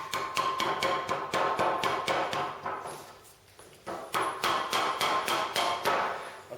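Rubber mallet tapping dowels into a solid hardwood maple bunk bed rail: a steady run of close, evenly spaced knocks, a short pause, then another quick series of dull blows, with no voices.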